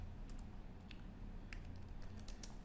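Light keystrokes patter on a computer keyboard as a git commit command is typed, scattered quick clicks at an uneven rhythm over a soft steady hum.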